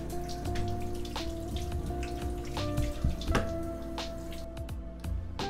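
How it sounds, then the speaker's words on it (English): Water splashing and dripping as a face is rinsed, a steady patter of close, soft drips and splashes over a running-water background, with no talk. "Now, rinsing off my face."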